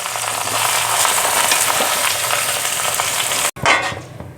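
A spoon stirs jaggery into elephant apple pickle in a pan over a low gas flame, producing a dense, close sizzle with scraping strokes, then a brief break and a clunk near the end.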